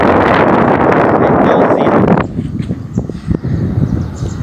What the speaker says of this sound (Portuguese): Tá ventando bem aqui